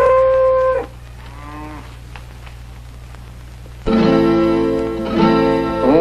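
Cattle moo loudly and close by in long, drawn-out calls, one at the start and another longer bellow near the end, with a quieter stretch of murmuring between them.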